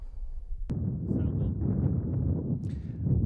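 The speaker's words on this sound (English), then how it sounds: "as you can hear, there's an awful lot of wind" Strong wind buffeting an outdoor microphone on a high exposed spot, a steady low rumbling roar after a brief quiet start, with gusty surges continuing to the end.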